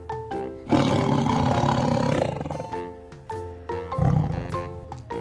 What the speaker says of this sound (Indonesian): Itu dia suaranya, suara harimau.